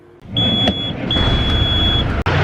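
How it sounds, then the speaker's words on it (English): A farm truck engine warms up on a morning of hauling soybeans, a loud, steady idling rumble that starts abruptly, with a thin high electronic tone running over it. "Truck 1 is warming up."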